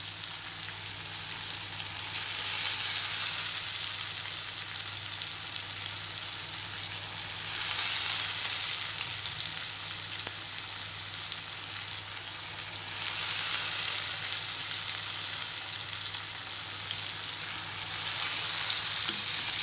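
Sliced ridge gourd and soaked moong dal sizzle steadily in a hot pan, a loud, continuous frying hiss that swells and eases gently for about twenty seconds, with no voices.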